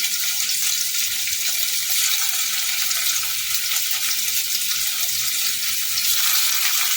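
Steady, loud sizzling of paneer frying in hot oil, a continuous crackling hiss with no talking.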